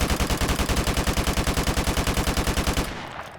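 AK-47 automatic fire from Modern Warfare Remastered, a loud, steady rapid burst of evenly spaced shots lasting nearly three seconds, then cutting off into a brief fading tail.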